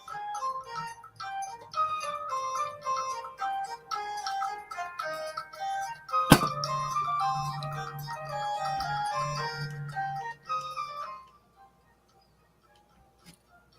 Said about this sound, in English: I think my music got too loud for some reason here.